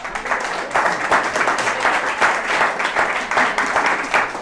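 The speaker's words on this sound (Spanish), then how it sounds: "lo despedimos con este fuerte aplauso" Strong, steady applause from an audience at a bookstore launch event, dense clapping that holds for the full length with slight swells and no voices over it.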